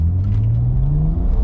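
A BMW with an N54 engine and Alpina transmission flash accelerates flat out up an on-ramp in sports mode, a deep rising engine drone climbing steadily in pitch, loud and close from inside the car.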